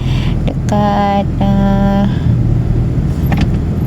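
Cars moving past close by at a traffic light on a street in the morning, a steady road rumble with engine hum throughout and some horn-like tonal notes partway through.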